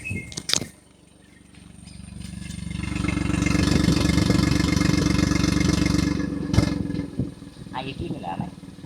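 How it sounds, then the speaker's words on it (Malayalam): A 2026 Maruti Suzuki Dzire sedan idles with a steady low engine hum that swells and holds close by, framed by brief clicks and knocks at the start and end, with no talking. "ഈ വാഹനത്തിൻ്റെ എക്സോസ്റ്റ് നോട്ട് ഞാനൊന്ന് കേൾപ്പിച്ച് തരട്ടെ."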